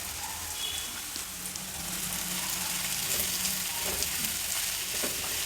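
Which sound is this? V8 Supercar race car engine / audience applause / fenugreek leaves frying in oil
fenugreek leaves frying in oil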